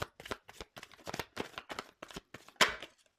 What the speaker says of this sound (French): je fais sauter les cartes